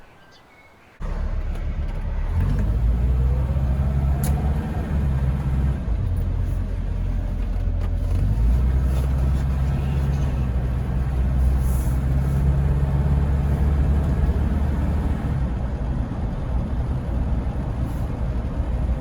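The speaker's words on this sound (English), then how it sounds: "I've taken it for a drive around the area where I live, and this is what I found." A 1974 BMW E12 520 drives on local roads, heard from inside as a steady, loud, low engine drone with road rumble that starts abruptly after a moment of near silence and continues evenly.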